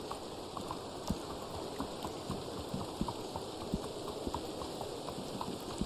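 Steady clip-clop of Black Arabian horse hooves trotting in an even rhythm in the video game Red Dead Online, moderately loud over a constant low background hum.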